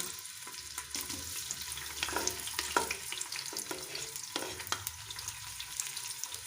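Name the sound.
onions added to hot oil, frying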